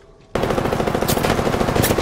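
Rapid automatic gunfire from the video game Apex Legends, played in a ranked match, bursts in loud and sustained after a brief quiet moment and rattles continuously to the end.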